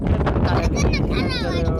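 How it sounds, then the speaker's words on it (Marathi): Strong wind blows across the microphone outdoors, a continuous rough buffeting roar with no break. "मित्रांनो खूप असं वारा वगैरे मस्त एकदम सुटलेले बघा"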